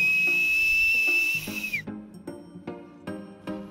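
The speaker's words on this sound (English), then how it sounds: "Okay, and last, the two-handed whistle." A loud, piercing two-handed finger whistle holds one steady high pitch for almost two seconds, then slides down and cuts off; soft rhythmic tones follow afterward.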